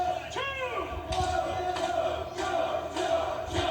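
A wrestling crowd at a Ring of Honor bout between Nigel McGuinness and Samoa Joe rises in sustained cheering and surging roars for the champion, loud and continuous beneath commentary voices.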